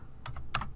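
A few quick keystrokes on a computer keyboard, three or four soft clicks close by in a quiet room with no voices.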